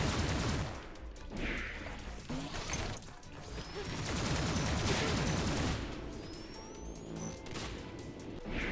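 Gunfire in a video game level under construction, with repeated loud shots and crashing impacts rolling through nearly nine seconds of busy, layered action.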